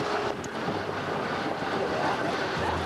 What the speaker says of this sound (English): It's a bit breezy, I'm afraid.